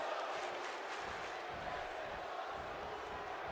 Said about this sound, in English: Crowd giving a "This is awesome" chant.